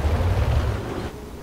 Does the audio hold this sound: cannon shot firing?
yes